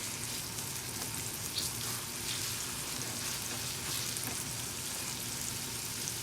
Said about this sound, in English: I'm just going to let it, just simmer in a skillet a little bit